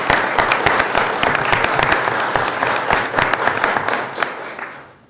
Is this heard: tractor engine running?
no